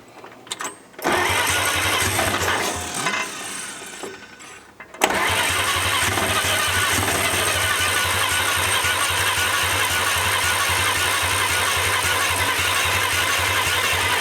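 The engine of a 1947 International KB3 fuel truck cranks unevenly for several seconds, then catches and settles into a steady, loud, rough running drone that continues to the end.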